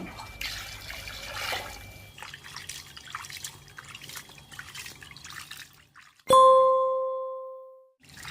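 Climbing wattle shoot leaves are rinsed in water for a Thai sour curry, with steady splashing and trickling up close for about six seconds, then a single bright bell-like ding rings out and fades.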